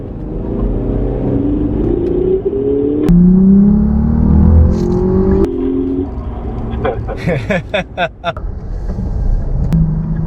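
A luxury saloon car, a Lexus LS500 or Mercedes S-Class S350d, pulls hard in second gear in sports mode, its engine droning and climbing in pitch under steady road rumble while people talk inside the cabin.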